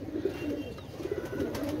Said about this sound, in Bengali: ভিউয়ার্স, এক জোড়া কবুতর দেখেন